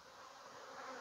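Honey bees buzzing steadily during a beekeeping hive inspection, a dense, close, continuous drone that swells slightly louder toward the end, with no talking.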